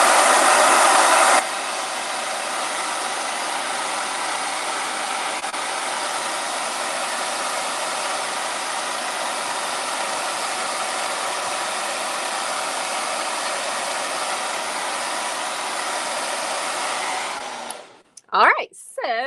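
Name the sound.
blow dryer running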